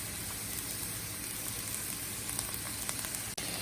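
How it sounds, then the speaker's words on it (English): Carrots, celery and onions with a pinch of salt and pepper sizzle gently in warming olive oil in a soup pot, a steady, even crackle close by without voices. "Wish those were sizzling a little bit more."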